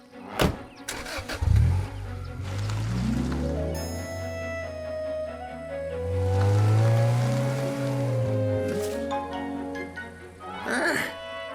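A cartoon car drives along with its engine revving up and down in rising and falling whines, steady and prominent throughout, with a brief clattering start.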